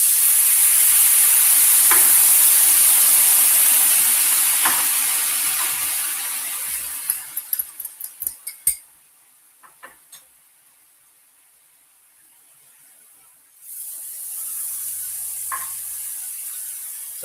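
Tomato and soy sauce mixture simmering and being stirred in a pan, heard as a loud steady sizzle that fades out. A run of sharp ticks and clicks follows, then near silence, then a renewed softer sizzle, with no talking.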